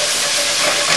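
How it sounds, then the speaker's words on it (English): Risotto base with salt and a tablespoon of paprika being tossed in a hot pan, giving a loud, steady, close sizzling hiss with stirring and no voices. "Stir it up."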